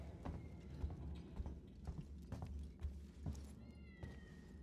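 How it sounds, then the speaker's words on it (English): In the Alien: Isolation VR game, a cat meows faintly a couple of times near the end, over a backdrop of dull thuds and low rumbling ambience. "You guys hear the cat meow?"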